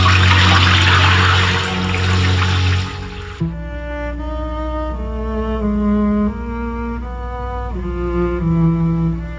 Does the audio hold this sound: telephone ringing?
no